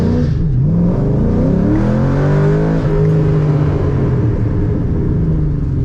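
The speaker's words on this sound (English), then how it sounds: "Little better, but still a burnout." A Ford Mustang revs hard through a tire burnout, its engine tone climbing and holding as a loud, steady rumble that fills the whole stretch without a break.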